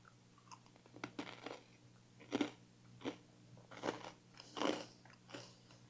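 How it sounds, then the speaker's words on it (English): Crisp crunching bites into homemade sourdough croutons, several sharp crackly chomps spaced a second or so apart, close up with quiet chewing between them and no talking. "How crunchy that is."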